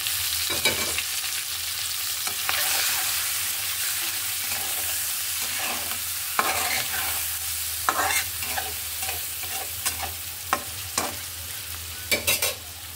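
Onions and green chillies sizzling in a pan for an egg and sweet pumpkin dish, with a continuous frying hiss broken by repeated scraping stirs of a spatula that grow more frequent toward the end.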